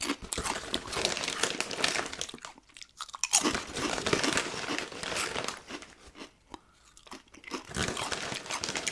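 Ridged Guinness-flavoured potato chips crunched and chewed close to the microphone, a run of crisp crackling bites and crinkles with short quiet gaps between them, fairly soft overall.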